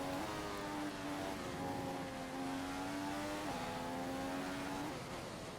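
A Formula One car in the F1 2015 racing game slides through corners at Melbourne, its high engine note holding steady, dipping and rising again with each gear change, loud and continuous with no talk.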